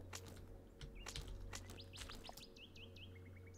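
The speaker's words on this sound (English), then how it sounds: "birds, get the crap out of me" Birds chirp and tweet in the video game Zero Sievert, with quick repeated upward calls over a steady low hum, fairly faint, no talk.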